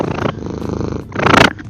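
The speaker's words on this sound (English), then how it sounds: "Sarah the cat, everybody" Sarah, a female house cat, purrs close to the listener in a steady, rumbling, pulsed drone that briefly swells louder near the end.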